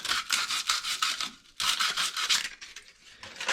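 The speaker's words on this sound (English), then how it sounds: "all I'm doing is just taking that pipe, spinning it in that sandpaper, and it cleans off that edge and makes the PVC rough" A PVC pipe spun against sandpaper to roughen its edge, giving close, loud scratchy rasping in repeated bursts with short pauses between strokes.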